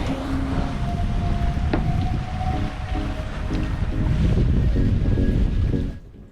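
Sailing boat under way on calm Caribbean seas in 7–8 knot wind, a loud steady rush of wind and water with faint creaks and tones, fading out abruptly at the end.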